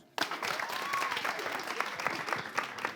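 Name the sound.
audience applause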